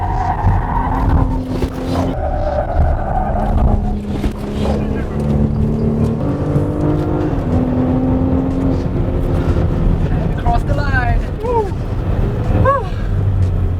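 A 2021 Porsche Cayenne E-Hybrid accelerates out of a corner onto a race track, its engine droning and rising steadily with brief tire squeals near the end while someone talks over it throughout.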